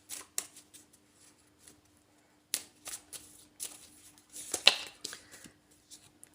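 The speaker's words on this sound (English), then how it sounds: "we will pull a couple of direct message cards here" Message cards shuffled by hand for a card reading: soft, papery riffles and light taps close to the mic, coming in irregular short bursts separated by quiet pauses, with no talking.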